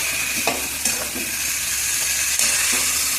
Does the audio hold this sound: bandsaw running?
no